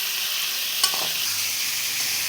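Chicken pieces fry in butter in a pan, giving a steady sizzle with a brief clatter of stirring partway through. No voices are heard.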